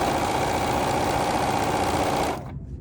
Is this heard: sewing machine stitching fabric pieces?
yes